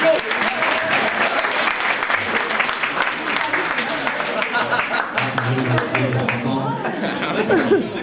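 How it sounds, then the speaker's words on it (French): An audience at an amateur boxing event claps steadily and warmly for the boxers, with scattered chatter and light laughter mixed in, the applause thinning toward the end. "un petit dernier pour finir, pour les applaudir et les encourager"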